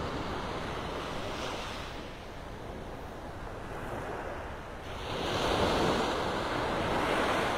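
Ocean surf rolls onto the beach at Pelican Bay in North Naples, Florida, a continuous wash of breaking waves that swells louder near the end, with some wind buffeting the microphone and no speech.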